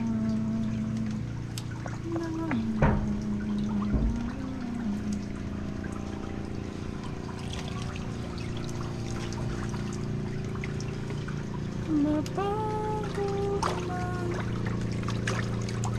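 Water splashes and trickles around a small wooden boat out on open water, a faint continuous pouring with occasional louder splashes and distant tonal creaks, heard alone without talk.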